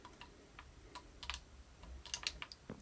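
Quiet, close tapping on a computer keyboard during a Minecraft session, a loose run of individual key clicks with a brief burst of rapid strokes near the end, and no voices.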